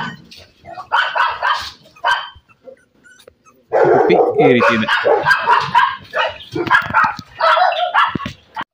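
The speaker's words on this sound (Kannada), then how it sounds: "ನೋಡ್ತಾ ಇರ್ಬೋದು, ಪಪ್ಪಿಗಳೆಲ್ಲ ಎಷ್ಟು ಚೆನ್ನಾಗಿ ಆಟ ಆಡ್ತಿದೆ ಅಂತ ಹೇಳಿ" Beagle and pug puppies playing outdoors, giving out short yips and barks amid bursts of activity, with someone talking over much of it.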